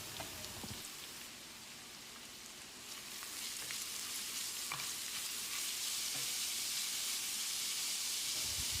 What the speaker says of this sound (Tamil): 250 கிராம் அளவுக்கு கேரட்டை நான் துருவி வச்சுருக்கேன். இதை போட்டு வதக்கிடலாம்.